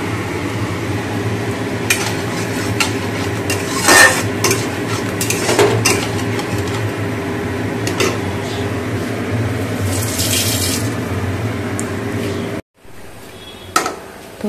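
Mustard paste sautéed and stirred in a pan, with sizzling and a spoon scraping and clinking against metal at close range in irregular strokes, followed by a brief pause and a sharp clatter.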